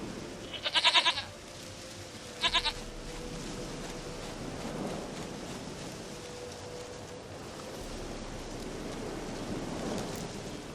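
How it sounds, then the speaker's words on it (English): Goat bleating in The Witcher 3, two short close bleats near the start, a longer one followed by a brief second, then only a low steady ambient wash with faint surf-like noise. "Goat of mine, dearest,"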